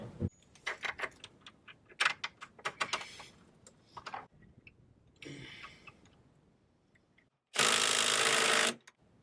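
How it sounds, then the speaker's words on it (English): Bolt and nut being fitted through the inner wing of a Mk2 Ford Escort while a crossmember is bolted in: scattered sharp metallic clinks and taps, then a brief loud burst of a powered tool near the end. "I'm just going to put a bolt through the bottom and then put a nut on the end of it"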